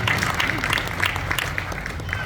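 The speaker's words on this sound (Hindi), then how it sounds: "And yes, now you can clap." An audience claps through a devotional talk on Krishna's pastimes, a dense steady patter of many hands over a low hum, with a voice faintly mixed in.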